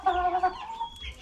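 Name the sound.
Rhode naked-neck chicken clucking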